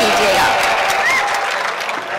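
At a Urdu poetry mushaira in Pune, a brief burst of audience applause sounds as a dense, steady patter of clapping that fades slightly toward the end, with voices mixed in.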